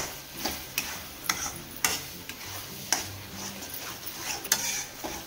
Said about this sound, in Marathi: याला चांगलं परतून घेऊ